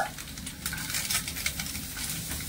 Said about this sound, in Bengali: আর এই সবজিগুলো কিন্তু আধা সেদ্ধ করে ভেজে নেব